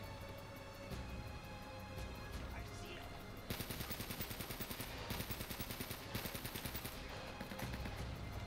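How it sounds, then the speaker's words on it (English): Rapid bursts of gunfire from Uncharted: Drake's Fortune rattle on steadily, growing denser and louder partway through, with a voice talking faintly beneath the shooting. "they're shooting at the goblins"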